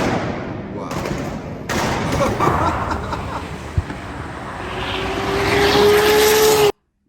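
A Toyota Supra MK4 engine roars hard and steady, its pitch climbing toward the end before cutting off abruptly, while people talk excitedly over it.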